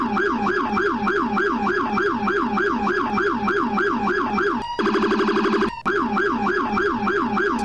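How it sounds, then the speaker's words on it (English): Rumbler-style emergency siren from a siren mod in the driving game BeamNG.drive, wailing in steady rapid low cycles, briefly switching to a fast pulsing yelp mid-way before resuming, loud and continuous with no talk. "If you listen closely to the slower of the two rumblers"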